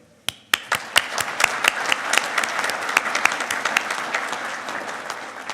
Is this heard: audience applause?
yes